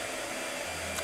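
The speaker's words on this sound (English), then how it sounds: "Blow dryer." A blow dryer runs steadily in the background, giving a constant, fairly quiet whooshing hum with no speech over it.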